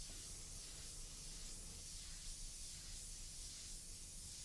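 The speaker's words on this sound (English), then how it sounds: "I just hold the airbrush in closer, I bring the needle closer to the job." An airbrush sprays paint in a steady, close hiss for a custom painting job, the needle held near the surface, continuous and even with no breaks or talk.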